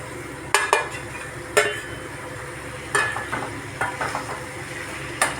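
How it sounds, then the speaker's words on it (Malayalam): Cleaned squid gets stirred into a spicy gravy in a home kitchen pan, with a soft steady sizzle under several sharp scrapes and clinks of a spoon against the pan, close and moderately quiet. "കൂന്തൾ ഇട്ട് നന്നായി ആ ഗ്രേവിയൊക്കെ അതിൽ പിടിക്കണ പോലെ നന്നായിട്ട് ഇളക്കി കൊടുത്ത്"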